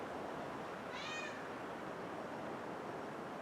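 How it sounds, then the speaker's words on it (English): A workshop cat gives a single short meow, faint and somewhat distant, against a steady background hiss in the shop. "That's our shop kitty."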